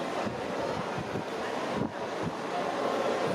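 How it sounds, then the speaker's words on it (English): A steady broadband whoosh of fan noise fills the whole stretch, constant and fairly loud, with no talking. "better go over here because of the fan."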